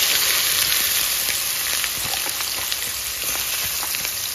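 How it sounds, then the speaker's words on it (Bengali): Chopped onions fry in hot oil with bay leaves, dried chillies and cumin seeds, making a loud, even, crackling sizzle close by and without talk. "বন্ধুরা, পেঁয়াজ আমার ভাজা হয়ে গেছে লাল লাল করে।"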